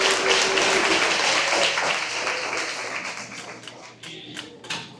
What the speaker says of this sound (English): Let's give one more round of applause for the 4th graders